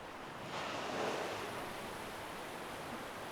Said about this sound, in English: you've got the waves crashing through the rocks down below